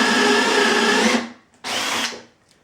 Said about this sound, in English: I've drilled a hole.